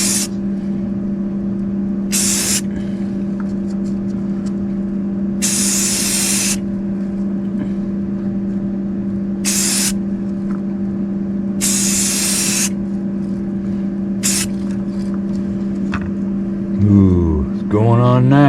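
Short bursts of aerosol spray lay a white top coat onto a Ford GT40 slot car body. About six hissing blasts of varying length come over a constant background hum, and a squeaky warbling sound rises at the end.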